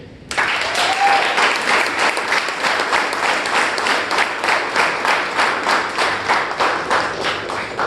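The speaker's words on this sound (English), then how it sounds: "Please welcome with a round of applause Toastmaster Akshay." A full room at a Toastmasters meeting claps steadily for the incoming Toastmaster, a dense, even round of applause that starts suddenly and holds close and loud throughout.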